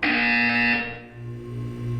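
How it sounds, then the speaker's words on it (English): The buzzer in the video game Portal 2 sounds as a loud, harsh electronic tone lasting under a second. A lower, softer hum remains after it. "When you hear the buzzer, look down at the floor."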